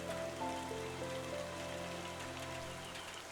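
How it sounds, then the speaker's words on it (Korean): Rain falling just outside an overhanging rock shelter at a prehistoric rock-art site, a faint, even hiss of drops with a low steady hum underneath and no talking. "이거는 지금 이렇게 밖에 비가 오지만 우리는 비를 안 맞고 있잖아요."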